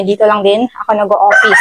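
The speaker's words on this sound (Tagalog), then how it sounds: "Sorry sa manok kapag may naririnig kayo." A rooster at a house crows loudly and close, its drawn-out call overlapping with a person speaking.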